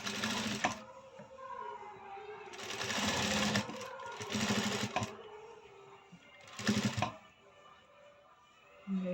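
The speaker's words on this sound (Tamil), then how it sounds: "கழுத்து ஓரமாக தையல் போடுறேங்க" An electric sewing machine stitches along a garment neckline in short bursts, each a fast mechanical whirring run separated by pauses, with quiet handling sounds between runs.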